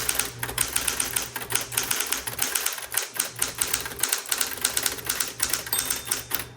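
Rapid, steady typing on a green 1970s Electra 120 electric typewriter, dense key strikes clattering continuously at close range over the machine's low motor hum, with a couple of brief pauses, and no voices.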